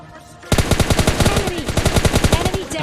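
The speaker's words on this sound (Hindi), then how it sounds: "हम इसके 10-15 शॉट सटका देते हैं" Loud automatic gunfire from the PUBG Mobile Lite mobile game bursts in after a quiet half-second, a rapid, evenly spaced stream of shots continuing to the end.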